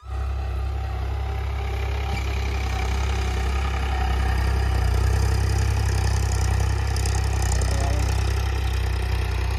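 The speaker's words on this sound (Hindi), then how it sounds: "पीछे चेकआउट करो मोटर चल रही है यार" Motor running steadily in a farm field in Jammu and Kashmir, a loud, constant low-pitched drone that holds unchanged throughout with no one speaking.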